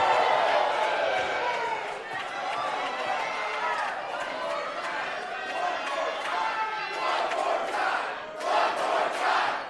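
A pro wrestling crowd roars and shouts throughout, a dense, sustained wall of cheering voices with occasional swells, while commentators talk over it.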